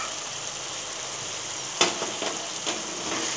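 Chicken fries with chilli powder and ground masala in a pan, a steady close sizzle broken by a few scraping stirs toward the end.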